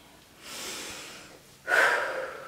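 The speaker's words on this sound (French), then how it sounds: "on inspire et on expire" Slow breathing during a gentle seniors' exercise session, a soft inhale followed by a stronger, audible exhale through the mouth, close and alone.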